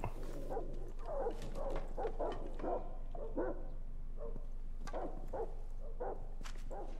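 Dogs in the Rainbow Six Siege shooter bark in a rapid, irregular series of sharp yips and woofs, fairly close and moderately loud over low background hum.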